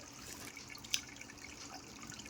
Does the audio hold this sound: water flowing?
yes